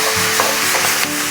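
Onions sauté in a hot pan with a loud, continuous close sizzle and a few soft stirring scrapes, no voices over it.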